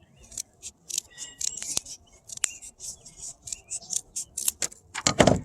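Scissors snip through paper to cut out a 3D Eid card, a steady run of short, crisp cuts spaced about half a second apart, close and clear, with no talking.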